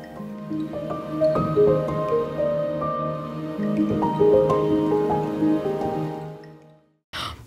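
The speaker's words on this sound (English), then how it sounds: "Yeah, a rainy day today." Rain on a rainy day, heard as a run of plinking, dripping drops with a watery, musical quality, steady for several seconds before a short pause and a final splash.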